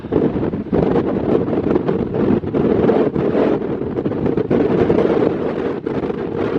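Strong wind on a hilltop buffets the microphone in loud, gusty rushes that rise and fall continuously, with no voices.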